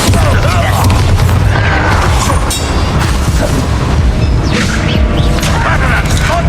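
A Bombarda spell explodes in Hogwarts Legacy, setting off a loud, sustained booming crash with rumbling debris and clatter. It stays heavy and close for several seconds, with brief voices mixed into the din.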